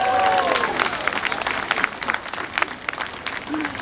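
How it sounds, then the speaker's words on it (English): A crowd claps at an outdoor pep rally for a college football bowl game at Embarcadero Plaza in San Francisco, a brief cheer at the start giving way to scattered, uneven applause that thins out, with a voice briefly audible near the end. "Round of applause for Foster Farms."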